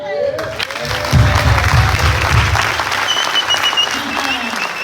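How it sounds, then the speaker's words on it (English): Clapping rises from an audience at an evening revival church service, a loud burst of applause and crowd noise that carries steadily for several seconds, with voices calling out over it. "Can we clap?"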